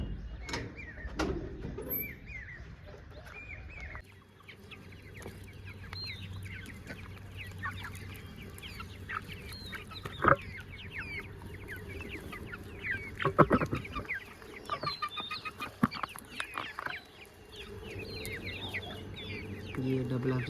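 Desi chickens cluck and chatter softly throughout a poultry farm in Jammu, with scattered close calls, occasional knocks and a low steady hum, while someone talks at times.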